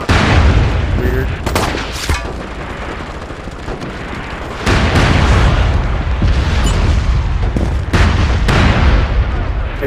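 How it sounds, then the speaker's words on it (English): Heavy booming gunfire and explosions in the video game MAG rumble throughout, with bursts of shots and a voice talking faintly beneath the dense, loud battle noise. "I just heard gunfire."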